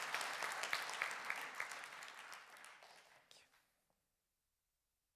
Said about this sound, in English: a big applause to our speakers